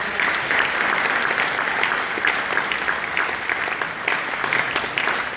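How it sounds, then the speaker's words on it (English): Loud, close applause from a school concert audience after a jazz band set, a thick continuous burst of many hands clapping with a few sharper individual claps rising out of the wash. "So let's give them a round of applause."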